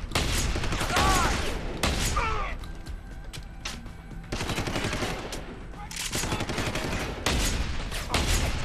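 Bursts of rapid automatic gunfire ring out in the video game Deus Ex: Human Revolution, loud clustered volleys broken by a brief lull in the middle, with game effects underneath.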